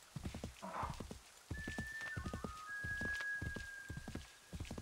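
Horses in the Assassin's Creed 3 Remastered video game clopping along in a quick, steady rhythm of hoofbeats, with a clear whinny early on and a faint, long thin tone running underneath.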